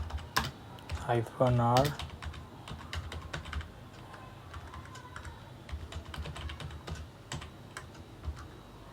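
Someone types a command on a computer keyboard for a Python project setup, with irregular close key clicks scattered across the clip and a brief spoken voice near the start.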